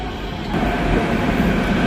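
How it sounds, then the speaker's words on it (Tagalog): Small driverless train in South Korea running steadily, a loud, close, continuous rumble of wheels and motor that swells slightly partway through, with no talk. "Ito yung train dito mga badi na maliit na walang driver."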